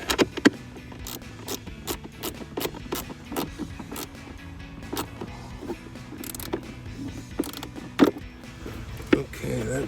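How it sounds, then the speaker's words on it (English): A ratchet socket wrench tightens a bolt while fitting an AFE Rapid Induction cold air intake on a Ford F-150 EcoBoost, giving steady runs of close, crisp mechanical clicks with a few louder clacks over about ten seconds, with no talking. "we'll take our socket and go ahead and tighten it up"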